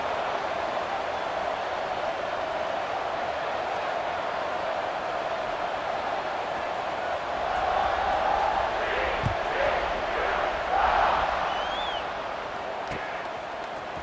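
Stadium crowd roaring at a college football game between Arizona State and TCU, a broad steady wash of distant voices that swells louder in the second half, with a few brief shouts rising out of the noise.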